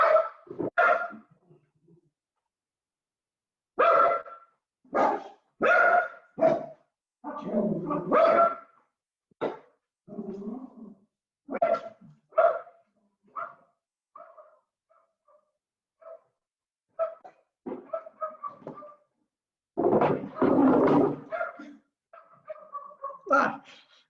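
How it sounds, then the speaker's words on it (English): A dog barks indoors in repeated bursts of sharp, close barks with short pauses between them, broken by a few whimpers and yips, while nobody speaks. "my dog is just barking"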